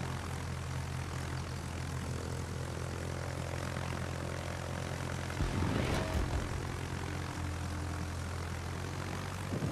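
Fighter plane launching from an aircraft carrier in a naval battle game, a steady propeller engine drone with a brief louder roar swelling midway, moderately quiet throughout.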